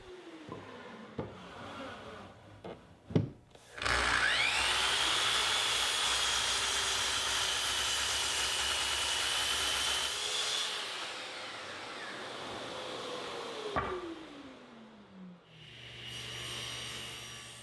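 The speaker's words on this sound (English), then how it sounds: "I'll use the miter saw to put a straight edge on one side of each board" A miter saw cutting a white oak board, a few short knocks and then a sustained loud whine of the blade biting through the wood for about seven seconds before winding down.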